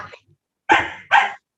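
A man imitates a dog with two short, loud barks in quick succession, alone and close to the microphone after a brief murmur.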